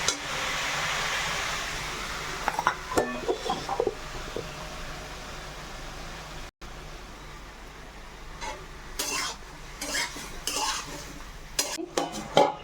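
Vegetable curry being stirred in a pot, with a spoon scraping and clinking against the metal in irregular bursts over a low sizzle and steady background hum.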